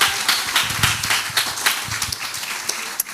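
A church congregation claps along in praise, a dense, steady wash of many hands filling the room, with scattered louder claps and faint background voices throughout.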